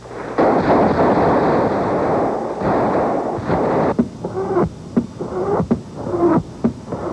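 Artillery fire in a war zone around Croatian neighborhoods, a continuous roar of heavy booms for the first few seconds, then separate sharp blasts at irregular intervals, loud and fairly close.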